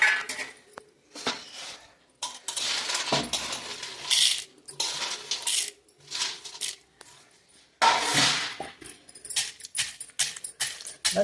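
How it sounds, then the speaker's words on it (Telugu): Dried red chillies, rock salt and groundnuts for Palnadu-style groundnut chutney tipped into a stone mortar, with scattered rattling, clinking and scraping sounds close by over several seconds. No speech is heard. "రోట్లో వేస్తున్నాను."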